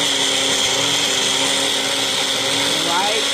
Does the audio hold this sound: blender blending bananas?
yes